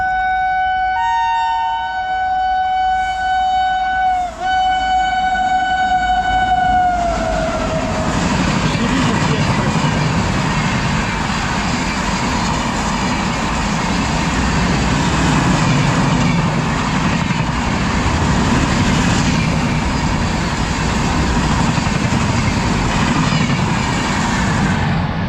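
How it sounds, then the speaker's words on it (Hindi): The Shri Shakti Express, a superfast train on the down line at Shambhu Railway Station, sounds a long sustained horn, then roars past close by with a loud continuous rumble and clatter of wheels. "जो डाउन लाइन है उस पर एक सुपरफास्ट ट्रेन आ रही है"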